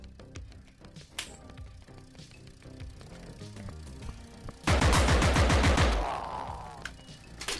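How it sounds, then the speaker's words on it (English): Assault rifle fire in the VR shooter Compound: scattered single shots, then a loud sustained burst of rapid automatic fire that fades out, alone without talk. "God damn it, I love assault rifles."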